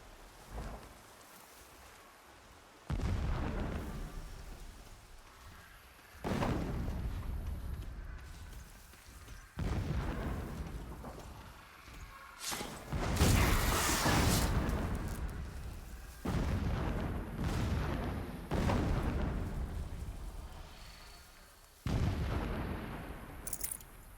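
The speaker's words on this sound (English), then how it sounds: "Explosions in the distance." Distant explosions in the video game Horizon Zero Dawn Remastered, a series of deep booming blasts rolling in at irregular intervals over a steady rain-like hiss, low and far off, with no talk.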